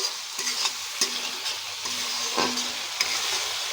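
Spice masala stir-fries in a pan with a loud, continuous sizzle, broken by repeated scraping strokes and utensil clicks at an uneven rhythm, close up and without speech.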